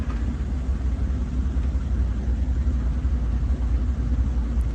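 Low, steady engine rumble of a pickup truck fitted with a Chevy 350 V8, a continuous deep drone at moderate loudness with no talk over it.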